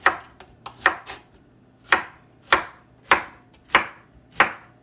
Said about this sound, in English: take my other knife here, cut it down the middle